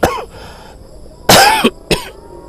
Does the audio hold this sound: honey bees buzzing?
no